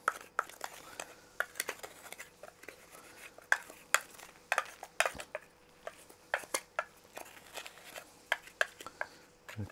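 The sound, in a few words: stirring a mix of ground spice seeds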